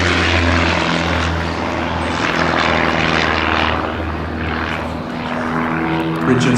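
The Grace Spitfire, a restored propeller warbird, drones loudly overhead at an air show, a continuous throaty engine roar with a steady low hum that swells and fades slightly as it passes.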